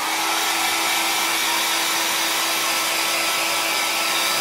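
A hair dryer blows steadily and loudly at close range, drying paint on a small tray. The whir holds a constant tone without a break.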